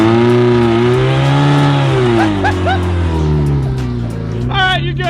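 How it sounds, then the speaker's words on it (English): A monster car doing a burnout, its engine held at a loud, sustained rev with pitch rising and falling, and brief chirps of tire squeal near the end; voices talk over the roar. "Oh, we're doing a burnout."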